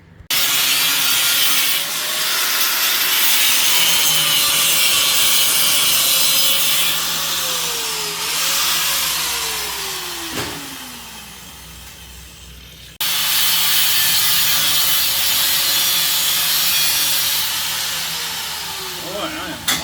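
A metal cart frame is cut down with a power saw, a loud continuous grinding whine with a shifting pitch that stops briefly and then resumes, close up with no talk over it.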